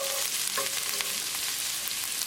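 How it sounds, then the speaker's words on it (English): Ginger and garlic fry in hot oil in a pan, giving a loud, steady, close sizzle with occasional stirring scrapes and no talk. "Cook ginger, garlic until the raw garlicky flavor is gone."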